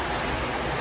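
Steady rain pours down in a dense, even hiss that stays constant and fairly loud from start to finish, with no voices.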